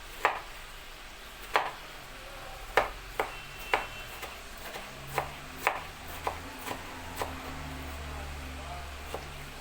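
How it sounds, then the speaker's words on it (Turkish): Around a dozen crisp knife chops cube peeled tomatoes on a cutting board at a steady, unhurried pace, close up, over a faint background hum. "Onlara da şöyle küp küp doğrayın."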